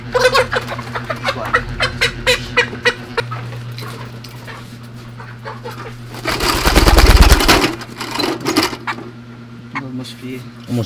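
Around sixty hens cluck in a chicken coop on Tablas Island in Romblon, Philippines. The bursts come close and overlap, people talk throughout, and a louder flurry of clucking and scuffling rises briefly near the middle.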